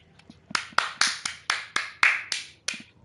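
Hands clap together in celebration after a success while playing Outlast, about ten crisp, close, evenly spaced claps with no talking.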